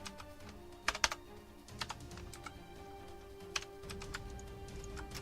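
Keyboard shortcuts being pressed on a computer keyboard while working in design software: scattered quiet clicks and a few clustered keystrokes, close but faint, with no talk.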